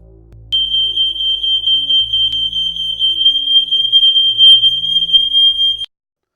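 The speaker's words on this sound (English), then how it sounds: "demonstrate that this was a fully functioning ionisation alarm" Ionisation smoke alarm sounding a loud, continuous piercing high-pitched tone that starts abruptly, holds steady for about five seconds, then cuts off.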